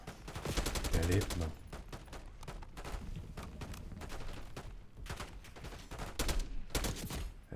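Rapid bursts of gunfire in Call of Duty: Black Ops 6, with dense, repeated shots fired in quick rhythmic volleys and a brief voice speaking over the shooting.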